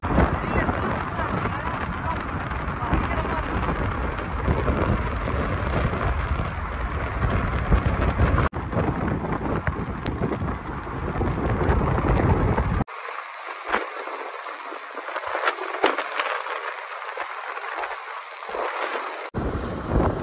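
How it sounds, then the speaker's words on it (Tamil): Heavy rain pours outside during a road trip between Madurai and Bangalore, a steady dense hiss that fills the whole stretch and briefly thins in the low end partway through. "பயங்கரமா கருத்துட்டு செம்மையா மழை பெஞ்சிட்டு இருக்கு வெளியில"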